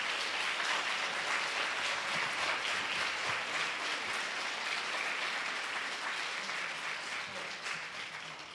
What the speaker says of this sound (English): I'd like all of you to give a round of applause for your teachers right now